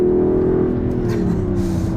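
Steady low exhaust burble from a 2026 Dodge Charger Six Pack Scat Pack during an upshift, a loud continuous rumble with a slight drop in pitch partway through.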